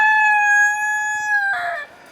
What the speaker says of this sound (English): There's one inside of the red coop where it doesn't belong. It's got some poor Chanticleer up on the roost in there